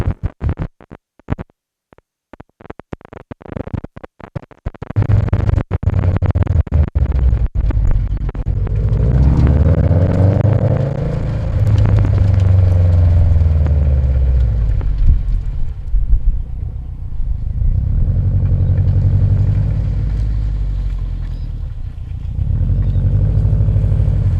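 A car driving back toward the camera, picked up by a wireless microphone transmitter inside it: a few sharp clicks, then a steady, loud, low rumble of engine and road noise that swells and eases as it approaches.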